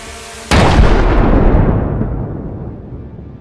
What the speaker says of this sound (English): The resulting explosion is massive, completely destroying the Russian Grad MLRS.